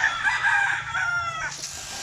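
Young chickens chirp and cheep in a continuous, fairly close chorus in a warm farm setting, with no talking.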